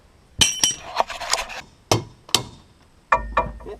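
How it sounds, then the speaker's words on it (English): Sharp metallic hammer blows ring out as bolts are pounded from a bean head on an anvil, in a handful of irregular single and double strikes with short pauses between them. "if we're replacing the bolts, I'll start pounding them out."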